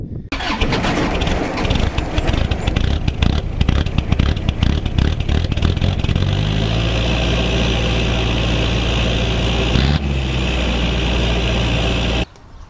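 A Toyota Hilux engine cranks over with a rough, uneven churn, then catches and settles into a steady, loud idle close by, running for several seconds before cutting off abruptly.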